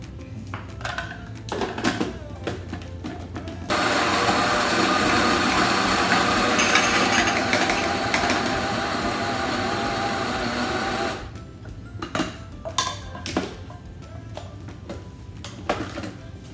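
A food processor grinds onion for creamy coleslaw, a loud steady whirring motor running continuously for several seconds before cutting off, with clatter and handling noises before and after.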